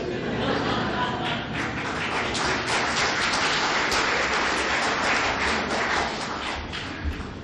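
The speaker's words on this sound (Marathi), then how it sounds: "तुम्ही कशाला टाळ्या वाजवल्या?" A large audience claps during a public speech by Dr. Narendra Dabholkar in Mumbai, a dense, sustained wash of applause that fills the whole stretch at a steady loudness.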